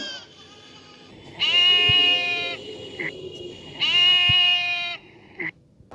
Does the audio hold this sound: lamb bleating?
yes